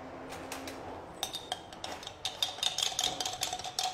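Cucumber, radish and pepper salad is mixed in a bowl, giving light, irregular clinks and scrapes of utensils against the bowl. The sounds are faint and quicken toward the end.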